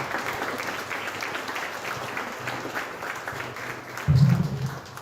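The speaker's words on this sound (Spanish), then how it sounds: "Denle un fuerte aplauso al Señor." Applause from a church congregation during a Spanish-language service, steady mid-distance clapping across the whole stretch with a heavier low thump near the end.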